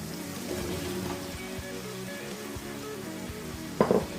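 Green tomatoes fry in a pan with mola fish, a continuous close sizzle with a low bubbling undertone and a short sharper burst near the end.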